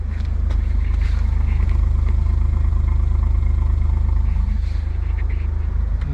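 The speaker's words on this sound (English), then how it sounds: "Has a nice little exhaust note too." A Suzuki Alto Works engine hums in a steady, low exhaust drone at a constant pace, loud and close, with faint clatter and no voices.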